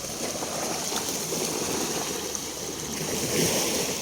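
Sea waves washing at a beach shore, a steady broadband roar with a gentle swell near the end, heard alone without talking.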